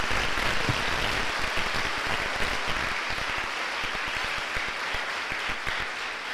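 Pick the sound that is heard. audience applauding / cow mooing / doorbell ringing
audience applauding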